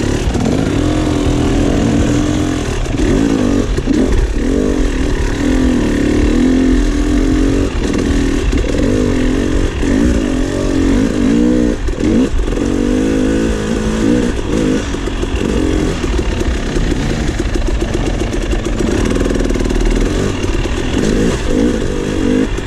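A KTM 300 XC two-stroke dirt bike ridden along a trail, its engine a loud, close, raspy buzz that keeps rising and falling as the throttle is blipped over uneven ground.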